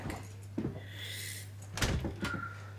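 Door sounds from an episode of The Last of Us: a soft knock or clunk, then two sharper bangs close together near the end, all over a steady low hum.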